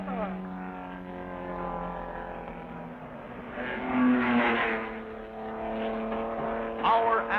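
Production Corvette race cars run in an endurance race, engines droning steadily with a rising, swelling pass near the middle and another surge at the end, heard beneath a voice talking.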